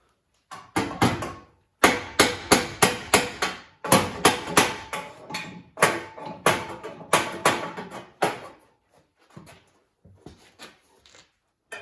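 A hammer taps a newly made fender apron into place on a car firewall rebuild, with quick bursts of sharp metallic blows in rapid runs, loud and close, pausing between groups and thinning out toward the end.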